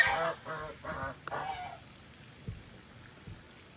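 Geese honk in a quick series of loud, nasal calls, then fall quiet, leaving soft pattering and a few faint knocks in the background.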